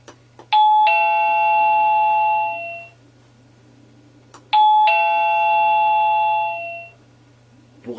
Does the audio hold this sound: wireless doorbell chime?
yes